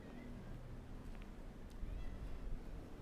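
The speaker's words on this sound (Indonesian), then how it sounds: "Iya ada meong." A cat meows a few times, faint and somewhat distant, over a low background rumble.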